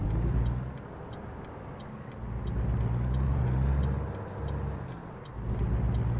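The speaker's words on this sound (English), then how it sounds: "There's a truck coming." A truck passes by in American Truck Simulator, its low engine rumble swelling, easing off and rising again, with a faint repeated ticking high above the drone and no talk.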